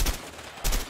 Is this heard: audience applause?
no